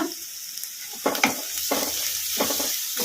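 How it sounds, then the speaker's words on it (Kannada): Chopped vegetables for egg fried rice sizzling in a pan over a high flame while a spoon stirs them in scraping sweeps, with a steady hiss underneath, close and fairly quiet. "ಫ್ರೈ ಮಾಡ್ಕೊಂಬಿಡೋಣ ಹೈ ಫ್ಲೇಮಲ್ಲಿ"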